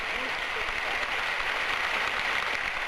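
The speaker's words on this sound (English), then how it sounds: "All applauded Margaret Smith" Crowd applause for Margaret Smith at the 1965 Wimbledon women's final, a steady dense wash of clapping from a large stadium audience, continuous and moderately loud.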